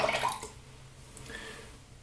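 A hand is rinsed under running water during a wet shave: a brief close splash and trickle at the start, then quiet dripping.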